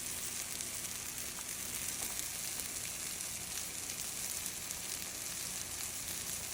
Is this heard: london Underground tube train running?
no